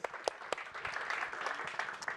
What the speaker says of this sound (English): So you can give yourself a round of applause for this.